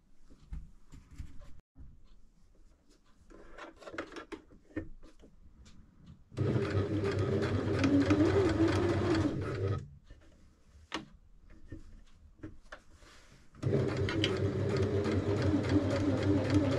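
Sewing machine running in two sustained bursts while stitching a French seam on whippet pyjamas, wrong sides together, with quieter handling and fabric rustle between the runs.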